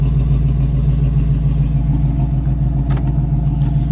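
A 1976 Chevrolet El Camino V8 idles steadily through its new dual exhaust, exiting behind the rear wheels. The low, even rumble is loud and close, with a faint lope throughout and no talking.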